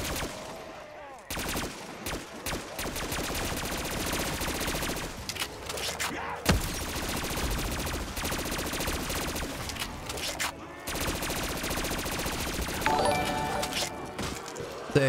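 Sustained heavy gunfire in a Call of Duty custom zombies map, continuous rapid shots and overlapping bursts filling the clip, loud and unbroken, with occasional louder cracks.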